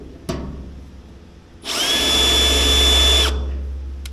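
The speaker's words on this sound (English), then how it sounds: "That started to drill." After a sharp click, a power drill spins up and whirs steadily at close range for about a second and a half, then winds down.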